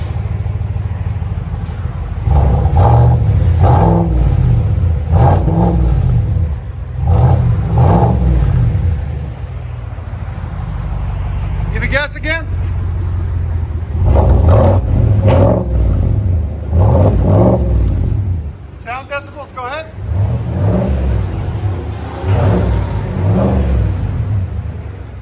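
A 2020 GMC Sierra AT4 pickup with a 6.2L V8 and dual exhaust with the mufflers deleted, revved hard again and again, each burst a deep throaty roar that drops back to a rumbling idle, while people talk briefly in between.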